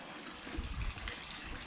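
Water runs steadily into a freshly fibreglassed koi pond as it fills, a soft, continuous gushing wash heard at low level from close by.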